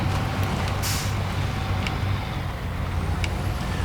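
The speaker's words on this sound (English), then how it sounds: "Now, you may notice some sound artifacts with a couple of these modded trucks." Modded trucks in the video game Snowrunner, a steady low engine drone with a brief hiss like an air brake release and a few faint high ticks, continuous throughout.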